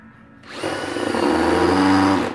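Power drill driving a screw into a whitetail deer skull plate during remounting, the motor spinning up from quiet to a loud, close, steady whine with slight grinding as the screw bites, lasting under two seconds.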